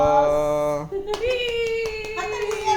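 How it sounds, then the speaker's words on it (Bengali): A short burst of hand clapping follows a family birthday song, the quick claps mixed with voices close by. "হাততালি হাততালি।"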